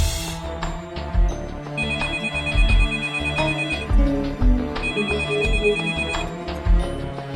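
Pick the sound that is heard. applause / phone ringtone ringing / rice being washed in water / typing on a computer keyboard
phone ringtone ringing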